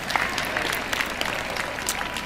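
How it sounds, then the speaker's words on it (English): Graduation crowd at a university commencement ceremony clapping, a fairly faint, distant, steady patter of many hands with scattered louder claps and light crowd noise throughout. "Yes, clap it up for 25 to life."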